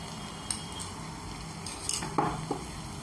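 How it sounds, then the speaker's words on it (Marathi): Tomato puree made from three tomatoes sautéing with fried onion in a pan, giving a steady close sizzle under a few light clinks and scrapes of a spoon against the metal. "आता हे आपण छान परतून घेऊया"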